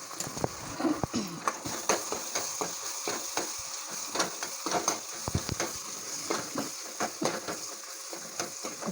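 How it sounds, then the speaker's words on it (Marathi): Ginger-garlic paste frying in a pan for a paneer curry, a low sizzle broken by frequent clicks and scrapes of a spoon stirring against the pan, close and fairly quiet, with no talk. "मिक्स करून घेऊया अद्रक लसूणचा कच्चेपणा जाईपर्यंत आपण फ्राय करून घेऊया"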